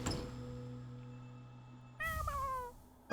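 A pet cat meows near the microphone over a steady low electronic hum, giving a short rising-and-falling cry that lasts about a second after a quiet stretch.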